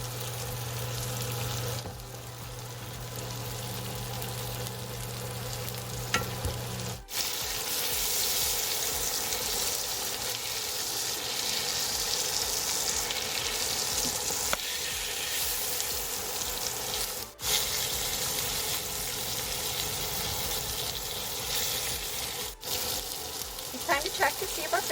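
Spicy blackened tilapia fillets with lemons fry in a hot pan, giving a steady, loud, broadband sizzle that runs unbroken for the whole stretch, with a few brief dips.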